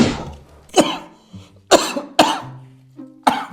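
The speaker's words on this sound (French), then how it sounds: "Il faut pas respirer de la compote, ça fait tousser." Several sharp coughs come in uneven bursts, close and loud, with short quiet gaps between them.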